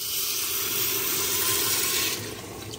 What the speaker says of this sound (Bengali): এবার এর মধ্যে জলটা দিয়ে দেবো।